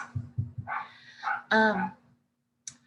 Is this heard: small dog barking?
yes